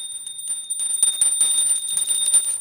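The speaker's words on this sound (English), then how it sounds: "please ring the bell as you do so" A small ritual bell rings continuously and rapidly while a lamp is waved in a devotional offering, bright and close, with sustained high metallic tones throughout.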